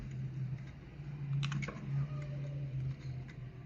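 Quick keystrokes tapped on a computer keyboard while a short word goes into an Excel search box, a brief burst of clicks near the middle over a steady low hum, with no voices.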